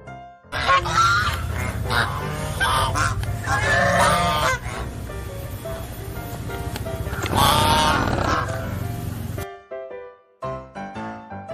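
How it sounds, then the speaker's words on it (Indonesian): Loud, repeated goose honks in close bursts, with other bird calls and a brief quieter stretch near the end. "Hewan ini namanya angsa lucu."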